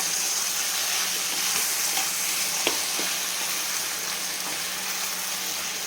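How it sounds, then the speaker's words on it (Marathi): Mutton pieces being mixed with masala and fried over a low gas flame, a dense continuous sizzle with occasional scraping stirs, close and steady throughout. "अशा पद्धतीनं पूर्ण आपण मटणचे पीस टाकून आणि आता छान मिक्स करून द्यायचे आपल्याला."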